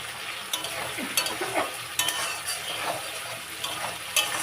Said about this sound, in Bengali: এবার মশলাটা কষে